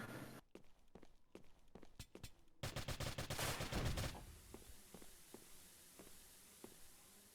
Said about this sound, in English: combination of a grenade there and some shots on a Muffin